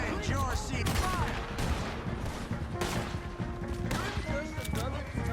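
Rapid volleys of gunfire in Red Dead Redemption 2, loud sharp shots overlapping in a dense, continuous fusillade, with shouting voices mixed into the battle throughout.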